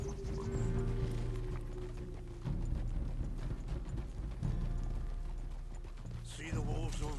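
Steady clip-clop of a ridden horse's hooves in Red Dead Redemption 2, a rhythmic gait over game music and a low ambient drone, with no one talking.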